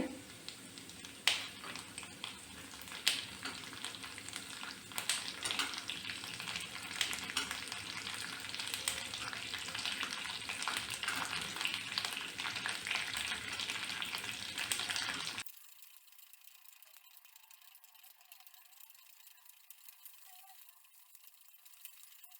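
Green chillies frying in a pan for mint chutney, a steady crackling sizzle with occasional sharp clinks for about fifteen seconds before it drops to near silence.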